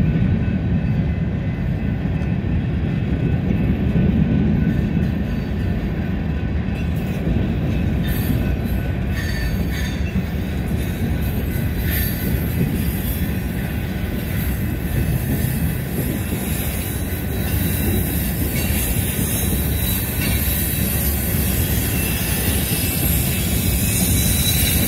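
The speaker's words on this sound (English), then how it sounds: "Pretty good sized train." A long Conrail freight train made up of boxcars and hoppers rolls steadily past at close range, its continuous rumble and rail clatter holding loud and even throughout, with faint wheel squeal.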